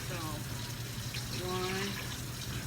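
Lukewarm water pours into a bowl for bread dough in a home kitchen, a faint steady trickle and splash under low background hum.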